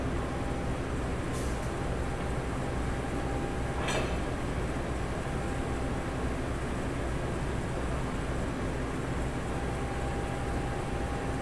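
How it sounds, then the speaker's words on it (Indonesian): A Logawa train locomotive idles at Surabaya Gubeng station with a loud, steady diesel rumble and broadband hiss throughout, marked by a couple of brief higher-pitched squeals. "sekarang lokomotif kereta Logawa sudah terpasang kembali ya teman-teman"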